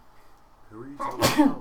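A single sharp sneeze bursts out near the end, following a few seconds of people talking during a tabletop fantasy role-playing game session.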